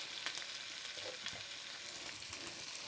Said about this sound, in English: So we're going to lay the asparagus in the butter,